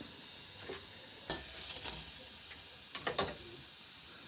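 Onion fries with spices in a hot pan, a soft steady sizzle and hiss with scattered stirring scrapes and a few crisp pops toward the end, moderately close and with no talk.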